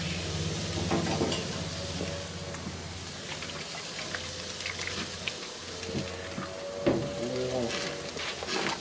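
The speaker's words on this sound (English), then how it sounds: "Okay, let's flip it again. This time we're going to turn it to the side so we can get some good grill marks." Mexican-style restaurant food sizzles on a hot grill to take on grill marks, a moderate hiss that continues throughout, with a few knocks and scrapes as the pieces get flipped.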